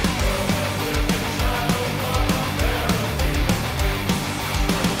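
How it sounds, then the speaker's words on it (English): Double-tracked heavy metal guitars panned hard left and right form a wide, dense, loud wall of distorted chugging, with bass and drums in the middle, steady and continuous, no talk. "what you get in return is just like this insanely big guitar tone that kind of just pops out at you"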